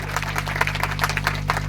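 A congregation at a Hindi-language new year worship service claps their hands together, giving a brief, dense, continuous patter of many hands over a steady low electrical hum.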